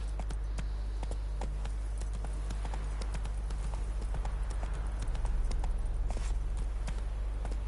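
Horse hooves clip-clopping at a quick, steady pace in The Witcher 3 video game, a continuous rhythmic patter of hoofbeats that grows slightly louder in the second half, with no talk over it.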